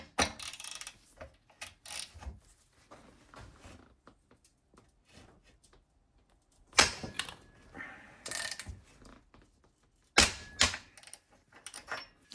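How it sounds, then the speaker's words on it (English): Quiet metallic clicking and scraping of a lambda sensor socket on a Jaguar F-Type, broken by a few louder, sharp ratcheting bursts as the socket slips, heard up close with no talking. "that noise is the sensor, or the socket rather, slipping"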